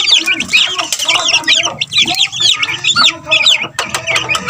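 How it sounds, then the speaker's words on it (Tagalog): Many chicks chirp busily together in a dense, continuous chorus of high peeps, close and loud, with some clucking fowl mixed in. "Makisigla ng mga sisiw."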